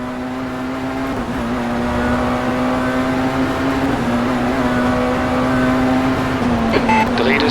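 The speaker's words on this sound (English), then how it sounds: "Enjoy the sounds of the car, guys." A Tatuus MSV F3-016 formula race car engine in rFactor 2 at Oulton Park drones steadily at high revs with a sustained tonal whine, loud and continuous, shifting pitch near the end.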